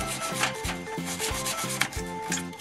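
Quick, evenly repeated rubbing strokes clean the empty sound-card slot on a computer motherboard, a close, dry scrubbing with no talk.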